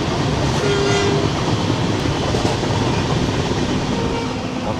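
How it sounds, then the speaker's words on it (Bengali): The Amaravati Express pulls into Hospet Junction. Wheels rumble steadily on the rails in a loud, continuous roar with faint rhythmic clatter and a brief tonal squeal or horn note early on. "ট্রেন ঢুকছে হসপেট জংশন।"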